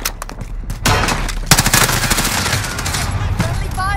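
Dense automatic gunfire from a Call of Duty: Modern Warfare hardpoint match rattles in loud rapid bursts, with sharp shot transients throughout and a heavier blast midway, under faint game voices.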